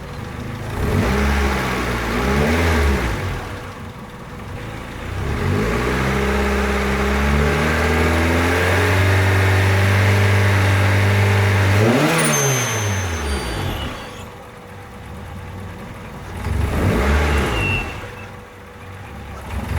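Turbocharged D16 engine in an EJ8 Honda Civic revs up and down repeatedly, pitch climbing and falling in sustained loud sweeps close by, with brief settling at idle between pulls.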